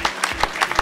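Brief burst of audience applause at an evening launch party for a new football club jersey, a few distinct claps standing out over a short, close-sounding patter.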